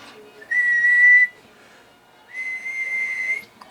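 A person whistles into a radio microphone through a Browning Mark 100 business band linear amplifier: two sustained whistled tones, each about a second long, separated by a short pause, sounding thin and slightly filtered.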